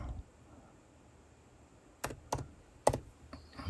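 Button presses on an ICOM IC-705 radio come through as three or four sharp, isolated clicks, close up and quiet, spaced unevenly over a faint background hiss.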